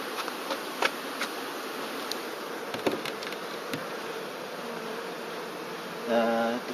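A steady, close buzzing of many honeybees being hived from a package drones continuously, with occasional soft clicks and a brief louder hum near the end.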